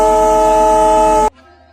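The Darjeeling toy train at Batasia Loop sounds a loud, sustained, steady whistle blast for just over a second. It then cuts off abruptly to quiet background.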